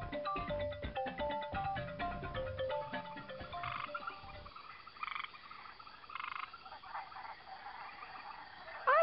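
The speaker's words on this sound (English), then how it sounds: "Here's a frog" Frog croaks in the rainforest of The Magic School Bus Explores the Rainforest, a rapid rhythmic burst of ribbits over jungle ambience at first, then sparser calls against a quieter background.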